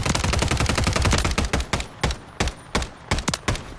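Rapid bursts of automatic gunfire in Call of Duty on Rebirth Island, dense at first then breaking into short separated volleys, loud and close with no talking.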